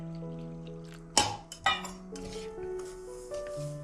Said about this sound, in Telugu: ఇప్పుడు ఇది మిక్స్ చేసుకొని, ఇలా మిక్స్ చేసుకుని పాలు కొంచెం కొంచెమే వేసుకొని కలుపుకోవాలి